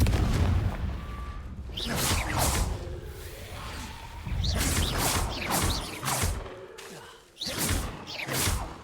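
Explosive Confringo spell bursts in the Hogwarts Legacy video game, several loud whooshing blasts with booming impacts in rapid succession over continuous game sound.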